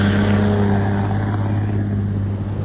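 A 1990 Mercedes GD300 with a swapped OM606 diesel engine cruising on light throttle, a steady low droning hum with strong engine tones, constant and close, no voices.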